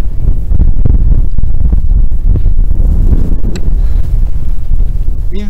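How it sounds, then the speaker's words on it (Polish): Strong wind high on a mountain in the Ural range roars and pummels the microphone in loud, continuous low-frequency gusts, close and overwhelming. "Im wyżej idziemy, tym silny wiatr. Tym silniejszy wiatr."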